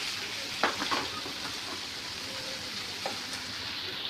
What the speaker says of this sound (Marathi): आता पनीर फ्राय झालेला आहे